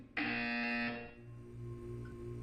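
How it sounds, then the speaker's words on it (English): A single loud electronic buzzer in the game Portal 2 sounds for about a second, harsh and steady, then cuts off, leaving low background hum. "You will hear a buzzer."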